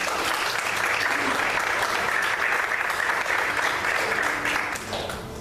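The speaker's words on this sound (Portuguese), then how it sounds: "Você pode aplaudir Jesus?" A church congregation claps together during an evangelical service, a dense, steady wash of applause from a sizable crowd that runs throughout and tapers slightly at the end.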